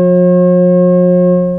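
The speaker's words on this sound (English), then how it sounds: "They are F sharp, and it's perfect harmonic fifth of C sharp." Synthesized F sharp tones forming a perfect fifth with C sharp ring out as a loud, steady, pure sustained tone with no other sound.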